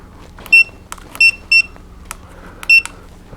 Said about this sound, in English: It beeps when the turn signal comes on too.